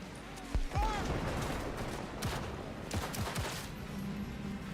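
Gunfire in the video game Cyberpunk 2077: a few sharp shots and short bursts crack through a busy in-game mix of voices and ambience, moderately loud and scattered across the moment.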